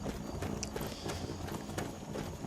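Horse hooves clip-clop quickly and steadily in Skyrim, the game horse moving at a brisk pace, with the footfalls fairly faint and unaccompanied by speech.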